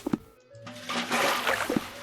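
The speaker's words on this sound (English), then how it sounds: "Water." Bathwater sloshes heavily inside a barrel in a Sherlock Holmes video game, with a couple of short splashes leading into a swelling, rushing watery surge that fades out, loud and close, with no talk.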